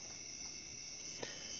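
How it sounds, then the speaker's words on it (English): Continuous high-pitched cricket chirring, faint and steady, with a soft brief knock near the end. "Owls, frogs, crickets."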